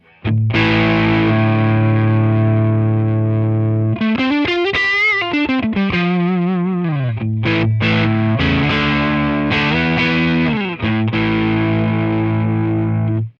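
A heavily distorted electric guitar through a Friedman IR-D preamp pedal at its highest gain stage plays sustained chords and a bending, wailing run, thick saturated tone ringing loud and continuous.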